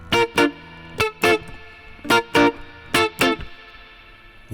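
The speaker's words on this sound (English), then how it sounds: "I've got a lovely lot of spring reverb on this" Short, punchy guitar chord stabs in pairs, each leaving a brief springy reverb tail before the next, with no talking.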